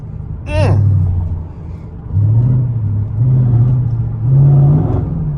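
A 2004 Mercedes SL55 AMG engine revs while driving, a deep rumble swelling in repeated surges with rising pitch, close and fairly loud, with a brief vocal-like chirp near the start.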